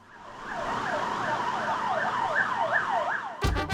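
A fire engine siren on a city street in Gangdong, Seoul wails in repeated rising and falling sweeps at moderate distance, cut off at the end by a sudden burst of rustling noise.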